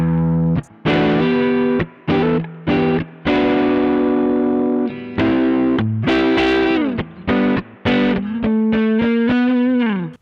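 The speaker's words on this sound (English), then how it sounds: "So you get a nice warm neck pickup sound." A Hagstrom Deuce-F electric guitar is played through its neck pickup with the coil tap off, giving loud, warm, overdriven single notes and short phrases with clear breaks between them, ending in a sustained bend.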